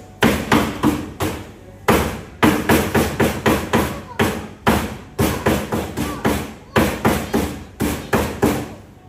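A cleaver chops chicken at a shop counter, landing repeated heavy thuds in quick clusters with short pauses between them. The chopping is close and loud.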